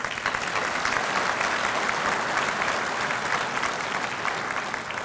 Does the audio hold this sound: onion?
no